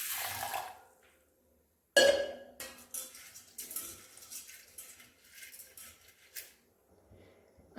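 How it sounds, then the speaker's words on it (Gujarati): About a bowl of rice is rinsed with water in a metal pot: quiet bursts of splashing and sloshing come and go, with occasional light clinks between pauses. "ભાતને ચડવા માટે આપણે એક તપેલીની અંદર 1 બાઉલ જેટલા ભાત લઈશું અને તેને પાણીથી સાફ કરી લઈશું।"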